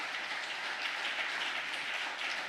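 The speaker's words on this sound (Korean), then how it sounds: "박수 한번 보내주세요" Audience at a lecture on Korean reunification gives a round of applause, dense and even clapping that stays steady at a moderate distance throughout.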